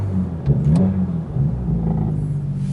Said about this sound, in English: you can hear the exhaust. Yep. That's the M Performance exhaust